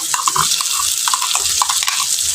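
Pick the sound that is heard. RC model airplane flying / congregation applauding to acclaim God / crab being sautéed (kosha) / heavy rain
crab being sautéed (kosha)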